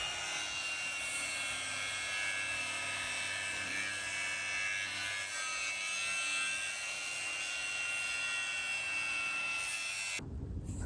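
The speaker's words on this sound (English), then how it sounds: "May have gone slightly too far with the spot weld drill" A high-pitched spot weld drill whines continuously against car body metal, loud and steady with a grinding buzz, stopping abruptly near the end.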